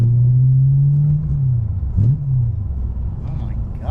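Modified E92 BMW M3 with an aftermarket exhaust giving a deep, loud rumble, holding a steady drone before dipping and blipping back up, with voices speaking over it.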